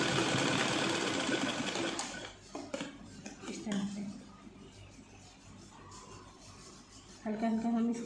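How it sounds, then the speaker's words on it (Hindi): A sewing machine stitches a night dress for Laddu Gopal, whirring steadily up close, then slowing and stopping before starting again near the end, with talking over it. "इसकी 1/2 इंच पर सिलाई लगा लेंगे ऐसे"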